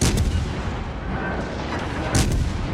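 Cruiser main guns boom in the naval game World of Warships Legends, aboard the USS Cleveland, with a heavy salvo at the start, another near the end, and a continuous rumbling battle din between them.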